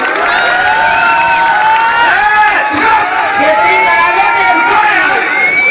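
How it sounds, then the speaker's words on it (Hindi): Lively crowd at a nautanki folk theatre show in Barabanki, with loud continuous cheering, shouting and likely clapping filling the whole stretch, close and dense throughout. "एक बार जोरदार ताली बजा दिए"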